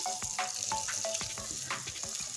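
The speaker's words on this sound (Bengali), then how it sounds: "এই দেখুন কত সুন্দর করে আমি লাল করে ভেজে নিয়েছি" Fish sizzling in hot oil in a pan, a dense crackling hiss broken by repeated sharp spits and pops, close and steady with no talking.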